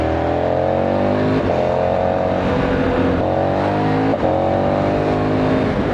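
A KTM Super Adventure 1290 motorcycle accelerates hard past cars on a coastal road. Its engine roars loud and close, climbing through the revs in repeated surges, with wind rush behind it and no talk.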